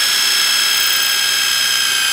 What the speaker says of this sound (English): So let's drill a hole straight through here and then see what we got.